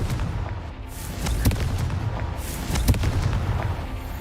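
Confringo fire spell explosions in Hogwarts Legacy, a run of booming blasts and crackling impacts over continuous low rumble, with sharper hits recurring every second or so.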